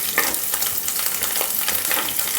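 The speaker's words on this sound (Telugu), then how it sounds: "పచ్చిమిరకాయలు, జీలకర్ర పేస్ట్ దంచుకున్నాం కదా, దాన్ని దీంట్లో వేసేయాలి. దీన్ని లైట్గా ఫ్రై చేసుకోవాలి." Green chilli and cumin paste fries in a hot pan for a light fry, giving a continuous close sizzle and crackle with occasional stirring scrapes and no voices.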